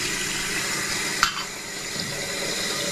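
Water runs from a kitchen tap in a steady, close rush, with a single sharp click partway through and a slight drop in the flow afterward.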